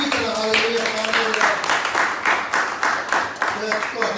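Congregation clapping during a Sunday service at an Indian Christian church, a steady, fairly loud patter of many hands under an ongoing voice.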